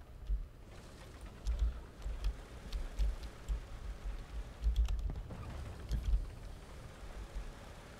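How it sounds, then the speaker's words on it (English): A very loud computer keyboard on a glass desk clatters with steady, fast typing. The keystrokes come in uneven bursts with heavier thumps from some keys, close up and alone. "Unfortunately, my keyboard is the world's loudest keyboard."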